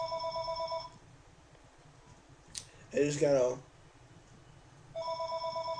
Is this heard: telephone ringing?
yes